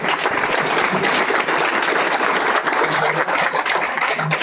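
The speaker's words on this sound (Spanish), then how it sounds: "pido un aplauso para nuestros ponentes" Sustained audience applause for the speakers at the close of a medical conference on advanced endoscopy, a loud, dense wash of many hands clapping at once with faint voices underneath.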